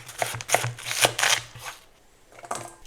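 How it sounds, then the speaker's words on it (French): A knife cuts half a tomato and half a red onion into cubes on a board: about eight crisp, close chopping strokes in a fairly quick, uneven rhythm, a short pause, then one final cut, with no talking. "je viens couper en cubes une demi-tomate ainsi qu'un demi-oignon rouge"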